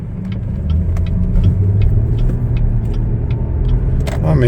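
A 2022 Chevrolet Blazer RS cruising on the road, a steady low engine and tyre rumble inside the cabin with light clicks, swelling slightly near the end.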